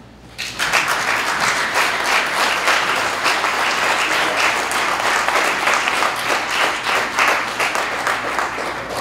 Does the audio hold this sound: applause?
yes